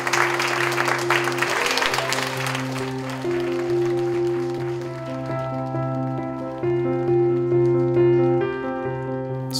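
An audience claps at a school gala, the applause loudest at first and thinning out as sustained musical tones take over and ring on.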